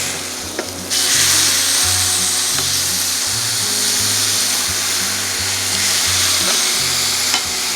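Spicy lemon garlic chicken sizzling loudly in a pan just after being flipped, a close, steady hiss that rises sharply after a brief quieter start, with occasional clinks and no speech.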